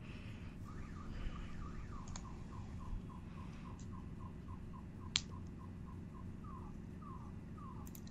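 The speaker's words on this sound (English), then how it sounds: "somebody's car alarm" A distant car alarm cycles through its repeating rising and falling chirps, faint and steady under a low background hum, with a sharp click partway through.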